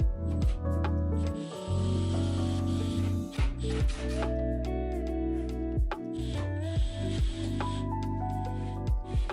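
A power drill whirs in repeated bursts, revving up and dropping off as 1.5-inch screws are driven into plywood, with short clicks and ratcheting between runs.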